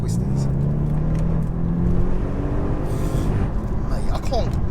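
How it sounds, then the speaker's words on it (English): A 680bhp Audi S8 accelerating hard, heard from inside as a loud, steady engine roar with rising tone that continues throughout, with speech under it. "I can't get over this acceleration"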